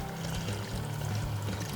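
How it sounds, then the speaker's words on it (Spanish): Water pours steadily into a pot of pumpkin pieces for a vegan curry pumpkin soup, making a continuous close splashing stream with no talking. "Y ponemos agua"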